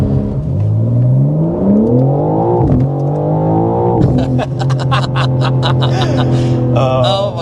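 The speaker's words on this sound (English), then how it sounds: "you can hear the burbles when you shift it up" A 2025 BMW M4 CS revving up through the gears, its engine note rising in pitch, followed by a run of crackling exhaust burbles and pops on the upshift. The sound is loud and close.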